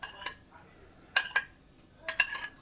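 Salted eggs being mixed in a bowl, a few quiet scattered clinks of utensil against the dish, in short bursts with pauses between them.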